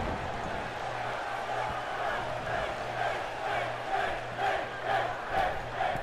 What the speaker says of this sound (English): Crowd is chanting for Finn